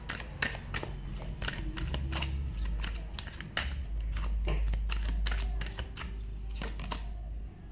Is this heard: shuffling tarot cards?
yes